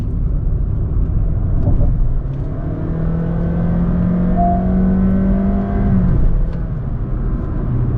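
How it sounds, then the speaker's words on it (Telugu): A 2022 Honda City Hybrid engine drones steadily from inside the cabin at full throttle, its pitch rising smoothly as it pulls hard, with road rumble underneath throughout. "యాక్సిలేటర్ ఫుల్ థ్రాటిల్ ఇచ్చినప్పుడు ఇంజన్ సౌండ్ అనేది లోపలికి వినిపిస్తుంది"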